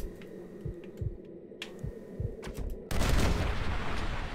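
Distant gunfire in Red Dead Redemption pops in a series of irregular shots, then swells into a louder burst of noise near the end, with no talk over it.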